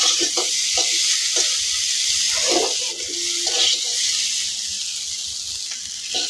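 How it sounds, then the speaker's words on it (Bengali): Steady hiss of potatoes frying in hot oil runs throughout, with occasional scraping and stirring clinks from a pan nearby. "আলুটি ভালোটিকে কড়া করে ভাজে নিতেছি"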